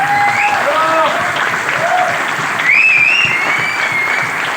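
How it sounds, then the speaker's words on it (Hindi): Loud, dense applause from a leadership conclave training audience fills the whole stretch, steady and close, with whistle-like tones and cheers rising over the clapping. "एक बार जोरदार तालियां।"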